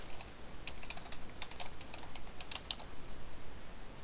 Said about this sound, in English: this is where you're going to type in your AOL email address